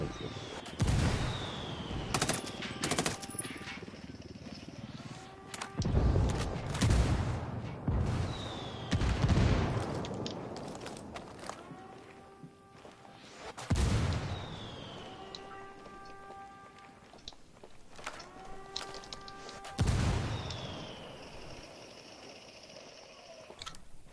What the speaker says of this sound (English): Call Packatari for some mortar fire